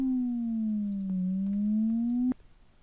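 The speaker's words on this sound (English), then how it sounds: "you could hear the sine wave changing the frequency of the tone" A steady pure electronic tone glides slowly down in pitch, then back up, holding smooth and loud before stopping abruptly with a click.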